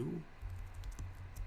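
Fingers tap out a quick burst of keystrokes on a computer keyboard, faint and close, with a brief bit of low voice at the start.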